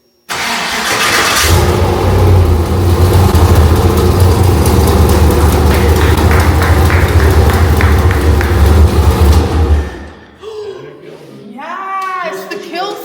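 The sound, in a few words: engine of Nessie fired up and running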